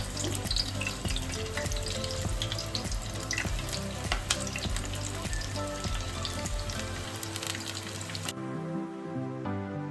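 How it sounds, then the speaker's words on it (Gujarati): Continuous crackling sizzle of bajra-flour vada frying in hot oil, dense and steady, then suddenly cutting to near quiet at the end. "તો પછી તેમાં છે ને આ વડા આપણે બધા તળી લઈશું"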